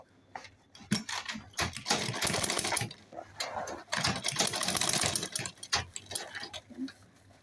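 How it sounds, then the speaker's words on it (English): A sewing machine top-stitching a large handmade travel bag runs in several bursts of rapid mechanical whirring and ticking, separated by short pauses, close to the listener, with faint handling sounds in between. "I will now top stitch it"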